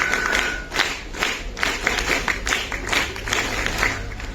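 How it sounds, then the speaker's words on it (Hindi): Cadets at an NCC camp clap for children after a CPR demonstration on a manikin, scattered moderate applause with irregular claps, somewhat distant and thin. "तो इन सब बच्चों के लिए जोरदार तालियां"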